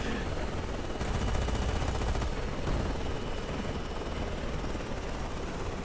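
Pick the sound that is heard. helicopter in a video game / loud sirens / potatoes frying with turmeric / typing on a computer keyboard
helicopter in a video game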